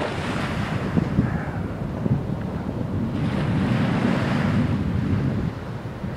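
Strong steady wind blowing across the microphone at Étang-Salé beach on Réunion, with surf washing continuously underneath, loud and unbroken throughout.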